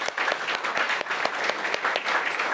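A church congregation at a Sunday service claps loudly for the Lord, a dense burst of rhythmic hand claps filling the hall for a few seconds.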